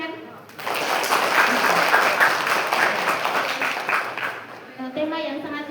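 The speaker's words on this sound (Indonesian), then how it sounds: "Boleh tepuk tangan?" An audience claps at a youth health seminar, the applause swelling quickly into a loud, dense wash, holding steady, then thinning out at the end with some voices audible.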